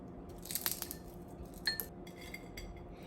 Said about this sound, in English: the whites are of course a bit harder to break. So we just break them in here.